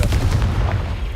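A Confringo blast spell fired in the Hogwarts Legacy video game, a loud booming burst with heavy low rumble lasting the whole moment, like artillery fire, with no talk.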